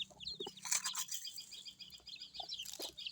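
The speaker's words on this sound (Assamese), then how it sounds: "চৰাইকেইজনী কিবা আমাৰ ঘৰুৱা নিচিনা হৈ গ'ল" Small birds chirping near a village house where rice is scattered for chickens and goats, quick bright twitters in short bursts, fairly close but faint, with a low hum underneath and no talk.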